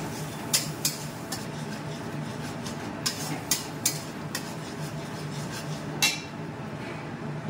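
Spice paste sizzles and is scraped around a pan with a spatula, a continuous close rubbing and scratching with a few sharp metallic clinks.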